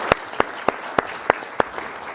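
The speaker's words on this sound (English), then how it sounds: "Let's thank them all right now with a round of applause." A small political forum audience gives a brief round of applause, light scattered clapping with a few loud, evenly spaced sharp claps ringing out close by.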